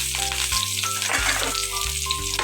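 Garlic fries in a pan for a chicken tinola dish, giving a loud, steady, close sizzle with crackling bursts throughout, heard alone without talk.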